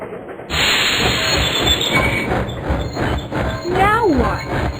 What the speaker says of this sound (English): It's the 5th time this train has stopped.